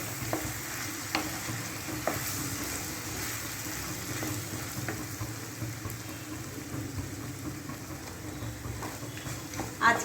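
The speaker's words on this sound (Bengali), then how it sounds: "ভেজে নেবো পোস্তটা।" Poppy seeds frying in a pan with potato and onion, a soft continuous sizzle with scraping stirs and occasional light clinks, steady and moderately quiet throughout.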